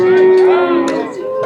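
A cow lets out a loud, close, drawn-out moo at a cattle market, with faint crowd noise behind.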